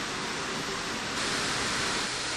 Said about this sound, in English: So I have my water. It's a hard boil